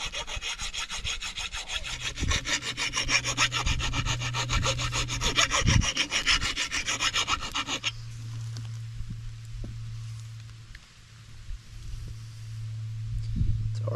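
A dull axe being sharpened with quick, rapid rasping strokes of a file or stone along the steel edge, loud and close, then slower, lighter scrapes with a low background hum and no talking.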